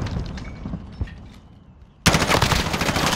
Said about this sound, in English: Launching grenades.